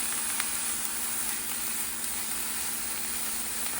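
Tender bottle gourd leaves hiss steadily in a hot wok, a close, even sizzle with a faint low hum underneath and no talking.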